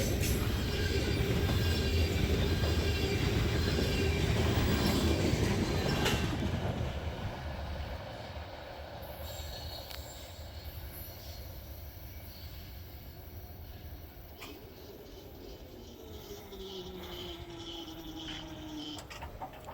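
A freight train hauling shiny Canadian National boxcars rolls past at close range, a loud steady rumble of wheels and cars with faint clicking and a brief wheel squeal, easing somewhat as it continues.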